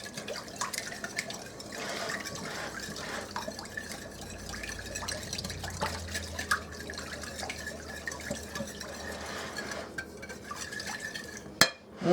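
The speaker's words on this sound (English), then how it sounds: "we're going to whisk this together." A whisk clatters steadily against a bowl of cake batter, a continuous wet stirring rattle with occasional louder knocks and a sharp clink at the end.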